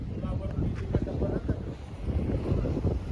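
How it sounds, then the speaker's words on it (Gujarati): Strong windstorm buffets the microphone in steady low rumbling gusts throughout at Chotila, loud and continuous, with faint voices beneath. "વાવાઝોડું અને વંટોળ ખૂબ જ વધારે છે"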